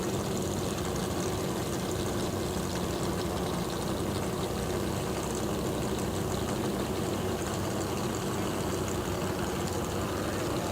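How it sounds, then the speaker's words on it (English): Racing boat engines drone continuously across open water at a pro boat race, forming a dense, steady roar with no distinct passes or pauses. "Ooh, I hear engines."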